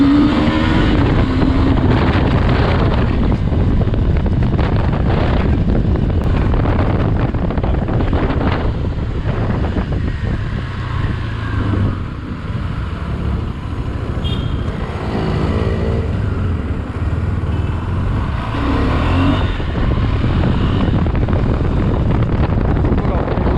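A KTM 390 Adventure motorcycle accelerates from 0 to 100, its engine rising under heavy wind roar at the rider's helmet. The engine note climbs and shifts as it gains speed, with some speech mixed in.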